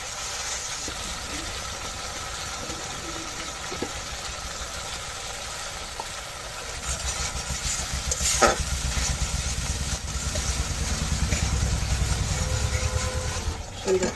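Masala with cardamom, cloves and cinnamon frying and being stirred in a pan, a steady sizzle that grows louder partway through, with occasional scrapes and a sharp clatter near the middle.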